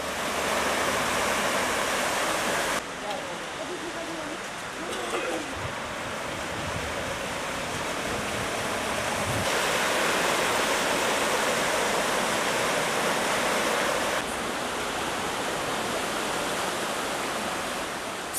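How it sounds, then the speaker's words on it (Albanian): Rainwater flooding city streets in Durrës makes a constant loud rushing wash, like steady running water, with no voices and no pauses. "Lagjet me numër 1 dhe 18 janë mbuluar nga uji i shirave"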